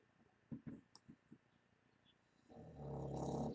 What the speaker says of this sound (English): You hear my dog snoring.